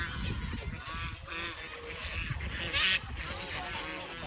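A flock of ducks at a muddy village spot, honking and quacking over a bed of outdoor noise. The calls overlap at moderate distance, and people talk faintly in the background.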